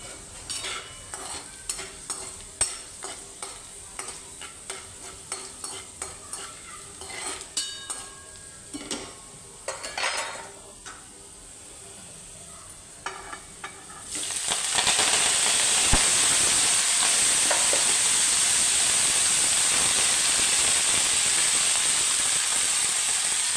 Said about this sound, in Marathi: अशी चांगली परतवून घ्यायची तेलामध्ये.